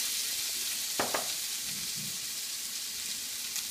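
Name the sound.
shallots and garlic sizzling in a hot wok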